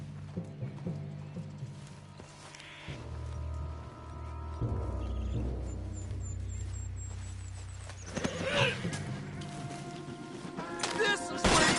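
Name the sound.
spooked horse in Red Dead Redemption 2 video game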